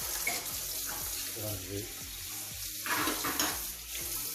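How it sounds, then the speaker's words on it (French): A water jet rinses a black resin kitchen sink, a continuous close hiss and splatter of spray against the basin with faint low murmurs underneath. "De passer partout avec le jet d'eau"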